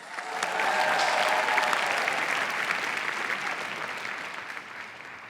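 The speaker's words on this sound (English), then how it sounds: "Let's get 5 minutes on the clock for Sarah Haider, and a round of applause, please." Sustained audience applause at a live debate on whether the sexual revolution has failed, a dense wash of many hands clapping that swells quickly and holds steady before slowly tapering off.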